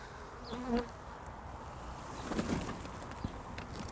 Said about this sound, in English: I'm just going to shake them. A big clump of bees